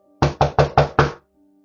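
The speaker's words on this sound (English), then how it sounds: "A young woman, Jane Alsop, hears a frantic knock at the door." Five rapid, evenly spaced knocks on a door, loud and close, delivered in a frantic burst before falling silent.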